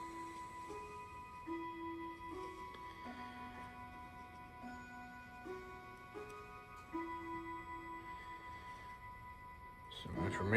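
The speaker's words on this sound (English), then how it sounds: "You're hearing one of our new antique clocks." An antique clock ticks softly and evenly in a quiet room, while a faint tone shifts in pitch in the background, ending with a brief louder rustle.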